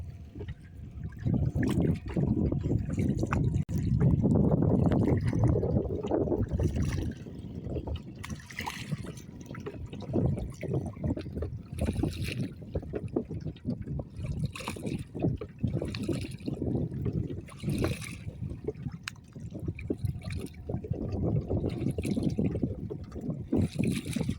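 River water on the Kachan river heard from a boat, continuous sloshing and lapping with a low rumbling wash that swells and eases.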